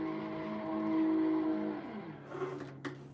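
Simulated drift car in a racing video game, engine held at full throttle in second gear with a steady harmonic whine that drops in pitch near the end, followed by a couple of brief clunks, loud and close.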